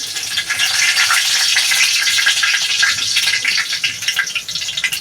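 Bay leaves fry in hot cooking oil in a pan, giving a steady, bright crackling sizzle that fills the whole stretch without a break.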